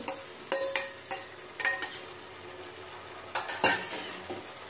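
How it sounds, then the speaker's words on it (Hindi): A spoon clinks and scrapes repeatedly against a pan as boiled potatoes and peas are stirred into spiced curd, irregular close metallic taps in bursts over a soft steady sizzle. "आता त्यामध्ये आपण आलू आणि मटर आपण त्यामध्ये बॉईल करून घेतलेला आहे, तो टाकून घेऊ"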